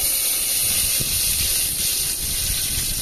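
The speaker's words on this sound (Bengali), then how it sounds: "এবার কাজুগুলো ভেজে নেব।" Cashews frying in white oil in a pot with cardamom, cinnamon and cloves, giving a loud, continuous close hiss of hot oil that holds steady throughout.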